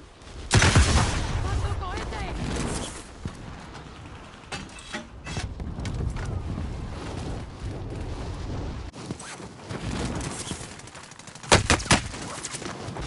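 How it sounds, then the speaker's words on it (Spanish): Gunfire in a video game, with repeated sharp shots and bursts spread through a busy, dense mix under game voices. "¡Me están disparando!"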